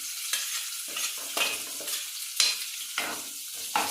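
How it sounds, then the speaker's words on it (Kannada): Onion dropped into a hot pan with oil and garlic, a bright crackling sizzle broken by repeated scraping stirs of a spatula, close and fairly loud, with no voices. "ಉಳ್ಳಾಗಡ್ಡಿ ಹಾಕಾತೀನಿ."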